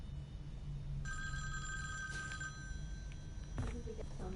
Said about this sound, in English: listen to the sound of a phone ringing all the time